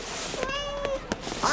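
A cat in a French animated cartoon lets out a single drawn-out meow that rises and falls, heard clearly over a noisy background.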